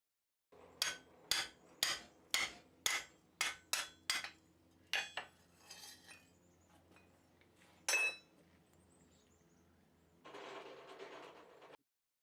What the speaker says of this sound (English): this final heat I'm going to be drifting the mouthpiece with the actual pipe to get the exact fit that I want